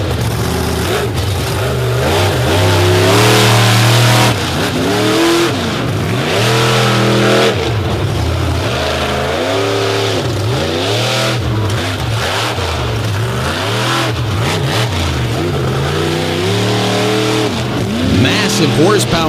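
A race car with a 572 cubic inch Oldsmobile engine roars loudly through repeated rising and falling revs at an Indy freestyle event, with tire squeal and continuous commentary over the engine noise.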